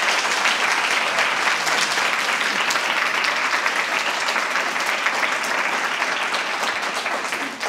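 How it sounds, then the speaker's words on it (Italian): A television studio audience gives sustained applause for high school students from a human sciences liceo in San Gavino, a thick, even sheet of clapping that stays loud throughout before easing slightly at the end. "fatevi voi un applauso adesso"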